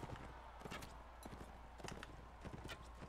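Horse hooves in Mount and Blade: Warband, a rapid clip-clop of galloping hoofbeats in an uneven rhythm that carries on throughout, quiet and set against a low steady hum.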